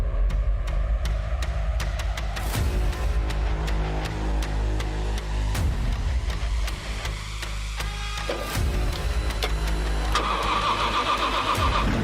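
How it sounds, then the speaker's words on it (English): A supercharged V8 drift car roars at a Formula Drift Atlanta pro competition, its engine loud and close with repeated throttle blips and sustained revving, backed by crowd and track noise and no talking. "Ken McGuire, Supercharged V8 right there."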